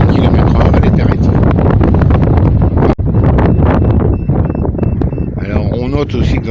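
Strong gusting wind buffets the microphone near a small 2.5 m home-built wind turbine with a furling safety system, a loud continuous roar that barely lets up.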